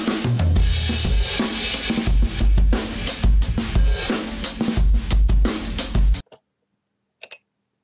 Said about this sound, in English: That's me playing drums